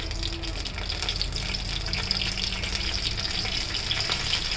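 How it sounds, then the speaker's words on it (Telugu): Cumin seeds and four dried red chillies fry in hot oil for a tamarind pulihora tempering, making a continuous, close, even sizzle with faint crackles and no voices. "జీలకర్ర వేసి 4 ఎండుమిరపకాయలు వేసేసి వేగే వరకు"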